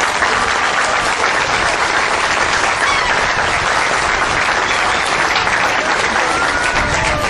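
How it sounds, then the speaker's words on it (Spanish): Sustained loud applause from a large audience at the Panam GP Series presentation in Puebla, Mexico, a thick, even wash of many hands clapping for several seconds without letup. "brindar un aplauso a Luca Bandicierri"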